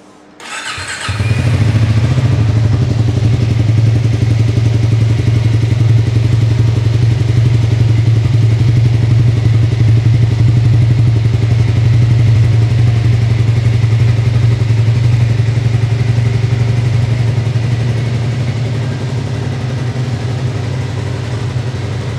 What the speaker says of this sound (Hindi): चलिए बाइक को स्टार्ट करते हैं और देखते हैं कि इसके स्टार्ट करते समय सेल्फ से किस तरह का नॉइज आता है